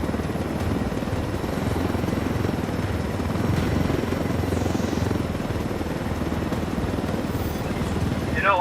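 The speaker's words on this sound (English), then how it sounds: "I told Griffin I could figure out how to fly this thing. Qualify for planes. But not choppers." A helicopter flies in the video game Ghost Recon Wildlands, giving a steady, continuous rotor drone and engine hum that holds at an even loudness throughout.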